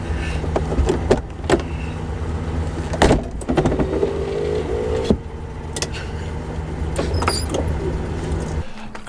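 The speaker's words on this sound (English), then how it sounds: "can you open and close your door?" A Reliant car door is opened and then shut with a couple of solid clunks, heard over a steady idling engine hum.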